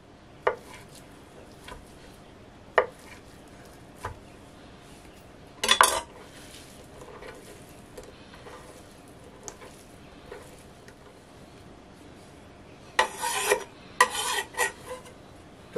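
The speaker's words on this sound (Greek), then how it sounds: "Τα κόβω σε κυβάκια." Feta cheese being cut into cubes with a knife on a board, with sparse sharp taps and clinks of the blade scattered across a quiet kitchen, a few clustered louder knocks near the middle and end.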